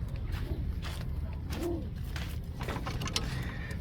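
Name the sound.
pigeon hen cooing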